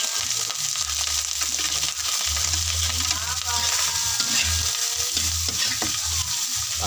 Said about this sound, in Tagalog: kapag yung pinagprituhan ng tuyo ay gigisa din natin yung rice